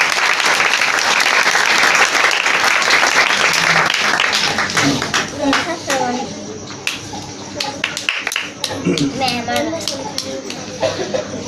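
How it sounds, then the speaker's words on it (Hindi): Loud, dense applause fills a gathering, with children's voices mixed in. After a few seconds it thins into scattered claps beneath a speaker talking. "जोरदार तालियां अपने लिए।"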